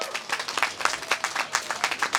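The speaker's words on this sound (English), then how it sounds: "So you really need to applaud really loud" An audience claps and applauds for a woman singer who has come from Toronto, at a Tibetan Kongpo Losar celebration in San Francisco, California, with dense, steady clapping of moderate loudness throughout.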